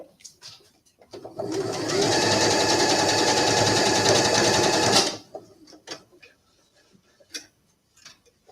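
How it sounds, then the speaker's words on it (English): A sewing machine stitches the back piece of a handmade doll, running in one steady loud burst of about four seconds between quiet handling noises and light ticking. "we'll take the other one, which is the opposite side of the back, and we'll sew that one too"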